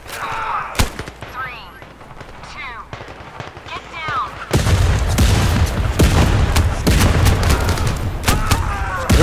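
Gunfire from the VR shooter Zero Caliber, played in co-op on an Oculus Quest 2. Scattered single shots are followed by a dense, loud burst of rapid automatic fire with booming reports, and voices talk in the background.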